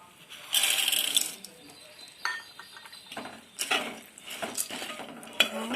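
Roasted gram goes into hot oil in a pan and is stirred with a metal spoon, giving a quick rattling pour followed by scattered clinks and scrapes against the pan.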